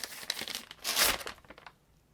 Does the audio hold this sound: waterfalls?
no